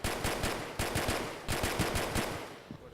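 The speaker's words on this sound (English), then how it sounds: "I'm gonna shoot through him" Automatic gunfire in a military training video game, rapid bursts of shots in two sustained strings with a short pause between, loud and close, ending in a brief fading tail.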